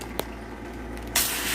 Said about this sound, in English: Okay, so there's the water coming out.